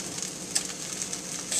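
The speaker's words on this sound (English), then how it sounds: "So back to stirring." Fried rice sizzles in a pan while being stirred, a soft continuous frying hiss with a few brief scraping clicks, fairly quiet and without talk.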